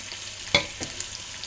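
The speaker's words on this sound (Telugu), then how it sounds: "తాలింపులు వేస్తున్నాను." Spices for tempering hit hot oil in a pan with a sharp burst of sizzling, followed by a few softer crackles and pops that fade quickly, close and fairly quiet.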